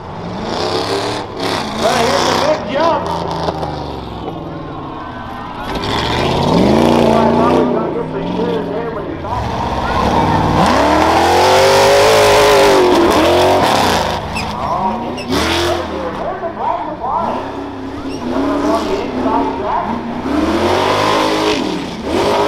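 Rough truck racing engines rev and roar at a county fair dirt track, loud and sustained with rising and falling pitch, under an announcer's continuous commentary.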